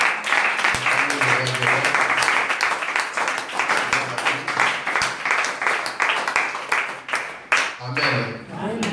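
A congregation applauding during a church thanksgiving service, sustained dense clapping that fills the room, with voices calling out over it throughout.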